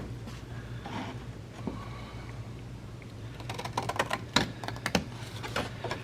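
Scissors trim a hanging file folder along its score line, giving a run of small, close crisp snips and paper rustles that grow quicker and louder toward the end.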